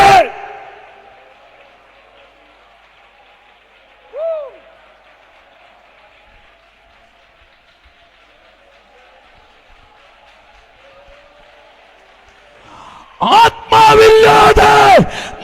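At a Malayalam Pentecostal church service, a congregation suddenly erupts into loud shouting and clapping near the end, after a long quiet stretch with only a brief vocal cry.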